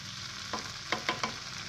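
Young papaya being stirred in a frying pan for an Indonesian oseng-oseng stir-fry, a steady hiss of frying with three or four quick scraping clatters of the utensil in the second half.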